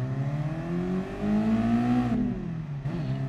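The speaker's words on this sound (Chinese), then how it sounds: "开始之后就一直踩着油门" A race car in Gran Turismo Sport accelerates at full throttle. Its engine climbs steadily in pitch, then drops at a gear shift and builds again. The sound is loud, close and continuous, with no voices.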